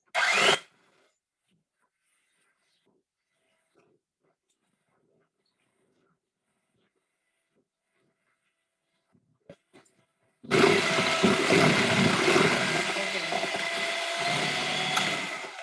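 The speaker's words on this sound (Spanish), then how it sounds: "ahora voy a batir la segunda mezcla" An electric mixer beats sponge cake batter, starting with a short loud burst, then a long near-silence, then a loud continuous whirring drone that runs close by until the end.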